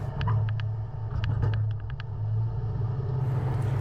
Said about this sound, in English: So let's take it through the test course and see how it performs.